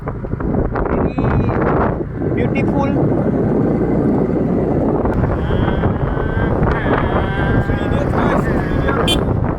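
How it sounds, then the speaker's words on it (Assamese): Strong gusting wind buffets the microphone in a loud, continuous roar, with a voice speaking briefly over it. "ইফালে আছে ৰ'দ, ইফালে আছে ধুমুহা বতাহ"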